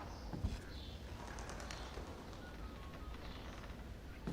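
Caged doves or pigeons softly cooing in the stealth game Thief, set over a steady ambient room hum with a few faint taps, the birds' calls intermittent and fairly quiet.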